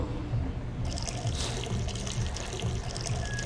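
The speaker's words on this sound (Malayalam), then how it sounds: "മൂത്രം വയ്ക്കുന്നു." A character urinates in the video game Sleeping Dogs: a steady stream of liquid splashes and trickles continuously at close range.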